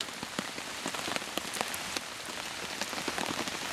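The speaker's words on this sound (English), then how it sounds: "That rain has come." Rain patters on a tent during November wild camping in England, a steady close hiss of drops with scattered sharper taps, fairly quiet and with no talking.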